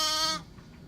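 A single sheep, one of the ewes in a farm pen, lets out a short, nasal bleat, loud and close, followed by quiet background.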